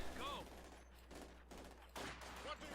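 Mortar and small-arms fire rumble and crack in a Company of Heroes 2 battle, a dense, continuous barrage of overlapping blasts with sharper bursts near the end, faint chirping tones threading through.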